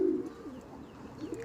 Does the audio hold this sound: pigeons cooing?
yes